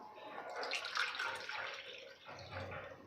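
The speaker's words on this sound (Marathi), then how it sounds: "आता पातेल्यामध्ये आपण सहा कप पाणी घातलेलं आहे" Water is poured by the cupful into a cooking pot for rice papad dough, a soft splashing pour that fades and then returns briefly. A voice speaks quietly alongside it.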